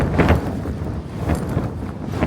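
A tent panel rattles and flaps in strong storm wind at a Scottish wild camp, a rough gusty roar with irregular fabric buffeting close to the microphone.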